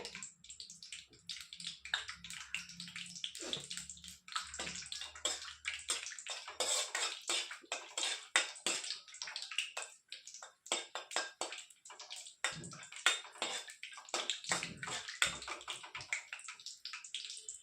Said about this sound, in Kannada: ಇದನ್ನ ಸ್ವಲ್ಪ ಹೊತ್ತು ಎಣ್ಣೆಲೆ ಬಾದಾಮಿ, ಗೋಡಂಬಿ ಮತ್ತು ದ್ರಾಕ್ಷಿ ಮೂರನ್ನು ಫ್ರೈ ಮಾಡ್ತೀನಿ ರೀ